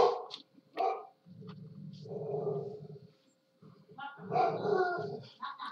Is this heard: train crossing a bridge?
no